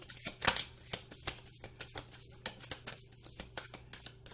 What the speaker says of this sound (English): I will shuffle 2 more times.